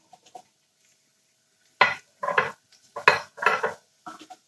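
Vegetables are turned over in hot oil in a pan for a bean stew, producing a few clattering scrapes and knocks of a utensil against the pan in short bursts with pauses between, over a faint sizzle.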